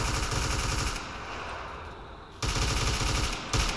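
Rapid bursts of rifle and machine-gun fire during a Marine platoon battle drill outdoors, loud and dense, a sustained volley easing briefly then resuming sharply with another burst near the end.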